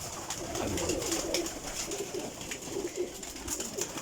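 Several high-flying pigeons coo in a breeding loft, a continuous mellow burble of overlapping calls at moderate volume, rising and falling in loose rhythm.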